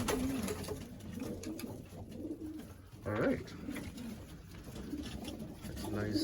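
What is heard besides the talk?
racing pigeons cooing in a loft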